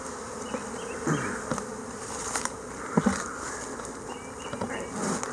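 Steady buzzing of many bees fills the clip, a dense droning hum with soft bumps and rustles, fairly close and continuous throughout.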